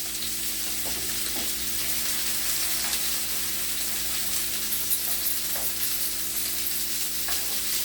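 A beef filet sears in a hot pan with a constant close sizzle, broken now and then by light stirring or utensil taps; no one speaks.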